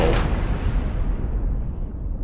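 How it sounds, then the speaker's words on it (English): A loud explosion from explosives in the Henry Stickman heist game, with a sharp burst at the start and a long, heavy rumble that fills the whole stretch. "with that big of an explosion, you went a little too far with the explosives"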